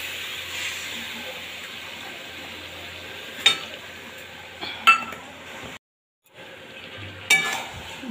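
Mutton braises in a pan as a spoon stirs it, giving a soft continuous sizzle broken by a few sharp clinks of metal against the pan, with a brief silent gap near the end.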